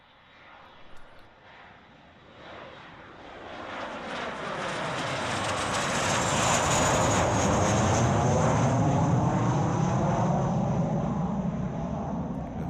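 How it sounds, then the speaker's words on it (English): A jet airplane pass-by builds from quiet to a loud, broad roar that swells over several seconds and holds near its peak, alone without talk. "Let me go ahead and do the jet pass by really quickly just to welcome you back to VIP."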